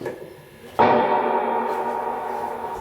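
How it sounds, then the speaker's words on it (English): A metal guitar chord rings out suddenly and sustains in a long, washy reverb tail of about three seconds that barely fades, with no other sounds. "And then the reverb would sound like this."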